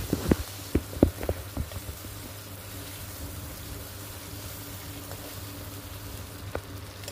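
Small fish fry in hot oil with turmeric in a wok: a soft, steady sizzle runs throughout. A few sharp clinks and clatters land near the start, and the whole thing stays quiet.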